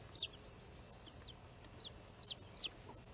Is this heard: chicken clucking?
yes